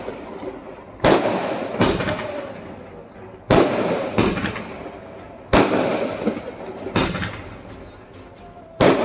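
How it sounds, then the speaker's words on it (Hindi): Firecrackers going off outside during Diwali: five or six loud, sharp bangs at irregular intervals, each trailing into a crackling decay, some distance away. "बहुत ज़्यादा नॉइजी हो रहा है, काफ़ी सारे पटाखे हैं बाहर।"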